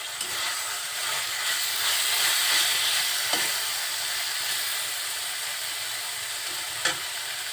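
Malabar spinach (pui shak) frying in a pan, a steady hissing sizzle throughout, broken by a couple of soft stirring clicks.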